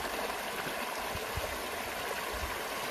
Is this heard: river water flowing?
yes